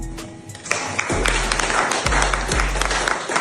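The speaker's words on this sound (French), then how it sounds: "au moins ça s'applaudit" Audience applause under a motivational talk, loud clapping mixed with low booming music hits that pulse at regular intervals beneath it.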